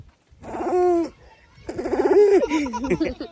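A child imitates a pigeon cooing with two close, drawn-out, throaty coos, the second longer and wavering, separated by a brief pause.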